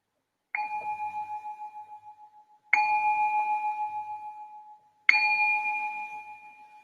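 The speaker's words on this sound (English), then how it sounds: "I'm going to ring this bell to signal the start of the meditation." A meditation bell is struck three times at an unhurried pace. Each clear ring sustains and slowly decays before the next strike, heard alone in quiet surroundings.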